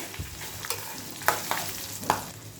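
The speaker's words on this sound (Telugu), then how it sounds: "ఎండుమిర్చి వేగిన తర్వాత 2 పచ్చిమిర్చి, కరివేపాకు వేసుకుని వేపుకోవాలి." Dried red chilies, green chilies and curry leaves crackle in hot oil as a tempering for coconut chutney. A soft sizzle is broken by a few sharp pops in quick succession.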